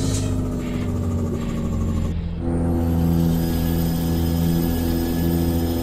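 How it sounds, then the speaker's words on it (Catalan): A truck's engine brake in American Truck Simulator gives a loud, steady rumbling drone with a brief dip partway through before the roar resumes. "Heu sentit el fre motor?"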